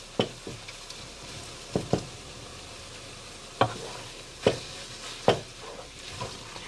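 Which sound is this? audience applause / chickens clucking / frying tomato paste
frying tomato paste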